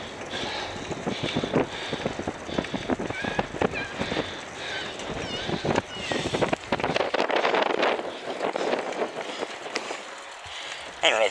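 Wind rushes loudly and continuously past the microphone of a cyclist riding a bicycle, with buffeting and rumbling throughout the whole stretch.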